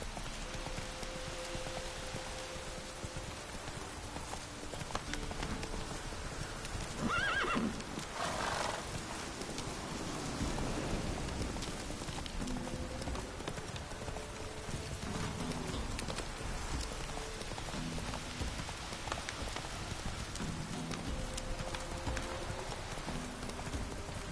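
Roach, a horse in The Witcher video game, whinnies loudly and gallops with steady clip-clop hoofbeats, set against a constant rain-like ambient wash and game music.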